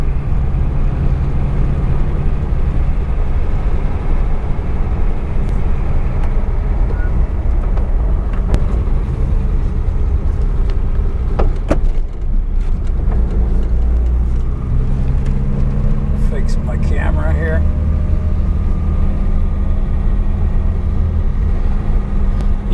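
A 1961 Mercedes-Benz 220Sb W111 with a possible carburetor fault heard from inside while driving, its engine a steady loud drone that shifts pitch with gear changes amid road and wind noise.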